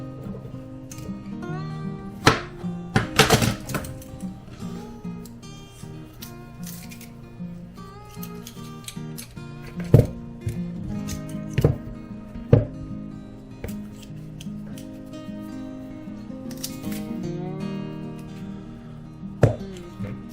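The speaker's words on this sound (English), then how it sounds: "Got my garlic press, got my large garlic, cut them all in half and press them." Large garlic cloves being cut in half and squeezed through a garlic press, heard as a series of sharp chops and clicks with scraping and handling noises in between, fairly close and with no talking.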